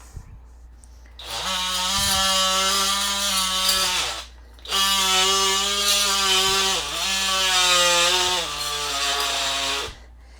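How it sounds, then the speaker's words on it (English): An oscillating multi-tool scrapes old vinyl flooring in a basement bathroom, a loud buzzing rasp in three sustained runs separated by short pauses. "All right, I went and got my oscillating tool."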